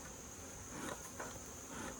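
Honey bees from a backyard hive buzz in a steady, faint drone, a thin continuous hum with slight swells as individual bees pass near, no talk.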